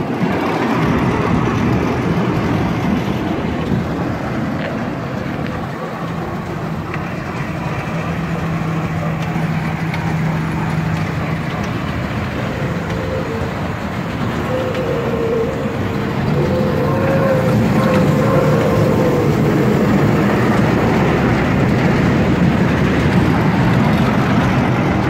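A clown convoy train ride at an amusement park runs on its track with a continuous rolling rumble and faint engine noise. Soft tonal sounds come and go over the steady motion.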